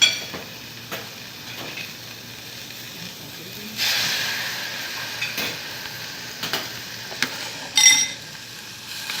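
Onions sautéing in a heated pan with a little water give a soft, steady hiss, with a louder burst of steam partway through and a few light scrapes and clinks of a utensil.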